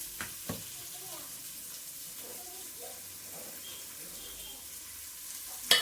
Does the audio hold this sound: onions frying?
yes